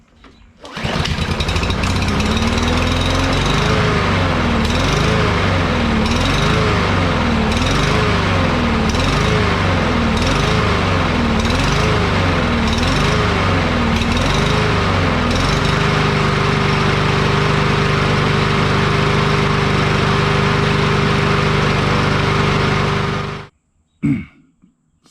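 A Briggs & Stratton 550EX lawn mower engine fitted with an aftermarket carburetor runs loud and close, surging rhythmically at first, then settling into a steady even drone before being shut off near the end.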